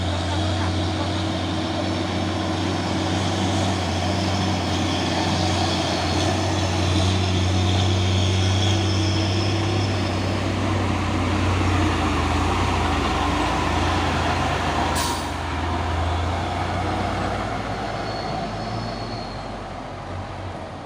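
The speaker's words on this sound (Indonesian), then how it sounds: "Dua unit truk box Nissan Pesino." Two Nissan box trucks roll past on the road, a loud, steady engine rumble and tire roar that holds throughout and eases slightly near the end.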